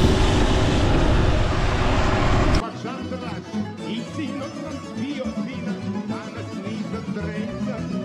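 A farm machine working a Serbian maize field runs at low throttle, a loud steady engine roar close by that suddenly drops away to a quieter rumble with people talking over it.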